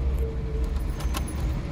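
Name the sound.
Volkswagen car key turning in the ignition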